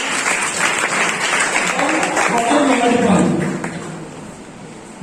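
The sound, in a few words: audience applause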